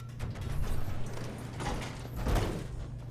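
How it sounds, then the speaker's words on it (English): Elevator door and machinery in Fallout 4, a rumbling mechanical grind with swells of clatter and a sliding rush, moderately loud and close. "Is this the elevator?"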